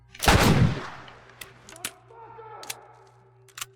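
A gun fires once in The Last of Us, a loud close blast with a booming tail, followed by several light metallic clicks and clacks of handling spread over the next few seconds.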